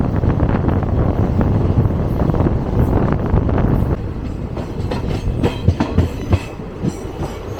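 A West Coast passenger train travelling from Chennai runs on its rails with a loud, continuous rumble, rhythmic clickety-clack and wind buffeting, then settles into a quieter run with scattered clacks.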